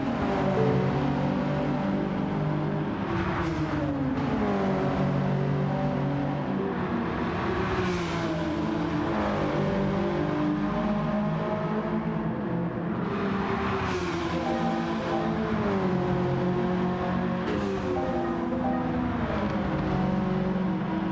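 Subaru BRZ and Nissan race cars in Gran Turismo 7 at Bathurst roar steadily throughout, engines climbing and dropping in pitch through repeated gear shifts and revving, loud and continuous with no voices.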